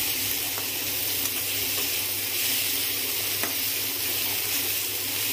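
Country chicken meat sizzles in a wok (kadai), a steady close frying hiss with faint crackles and occasional stirring scrapes, no voices.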